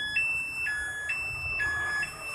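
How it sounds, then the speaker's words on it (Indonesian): A motorcycle security alarm on a Yamaha Xeon scooter wails in a repeating two-tone pattern, switching pitch about every half second, loud and continuous with no voices. "Nah, alarm bunyi."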